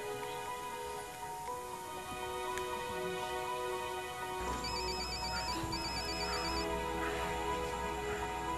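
A cellphone rings with a repeating electronic tone that carries steadily through the whole stretch, growing fuller partway through under a hissing background, with no voices over it.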